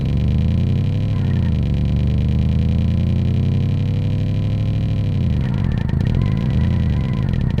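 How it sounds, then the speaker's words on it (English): Synthesized V8 car engine sound generated in software, a loud continuous buzzing drone with stacked harmonics that holds steady, dips briefly, then rises in pitch as the virtual engine revs, alone without voices. "if we rev up the engine, we should hear something that sounds kind of like an engine"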